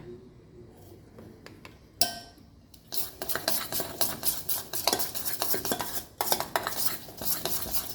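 Spoon scrapes and clinks steadily around a bowl of red tandoori masala marinade for pork chops, quiet at first and then a busier, louder stirring rhythm.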